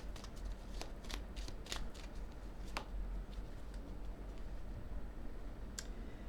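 Tarot cards being shuffled and cut by hand, a run of crisp riffling flicks and snaps close by, quiet and steady, clustered at the start with a final sharp flick near the end, no talking over them.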